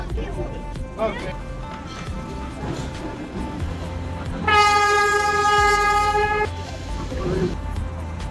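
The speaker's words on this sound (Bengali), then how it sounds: "এখন আছি দার্জিলিং এর টয় ট্রেনে।" A Darjeeling toy train runs with a steady rumble, then its horn blares for about two seconds, loud and near, with a voice heard faintly around it.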